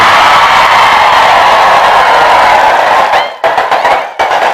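Audience at a humorous Islamic sermon breaking into loud, sustained clapping and crowd noise for several seconds, then thinning into a few scattered bursts of applause near the end.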